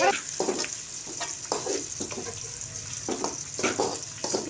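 Chicken curry being stirred in a hot pan, with a steady sizzle of frying underneath and repeated scraping strokes of the spoon at a brisk, uneven rhythm, close and fairly loud, no talking.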